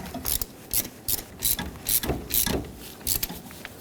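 A hand ratchet clicks in short bursts while tightening a 13 mm mounting nut on a 1997–2006 Jeep Wrangler 2.4L engine, about eight quick, close, crisp ratcheting strokes with brief pauses between them.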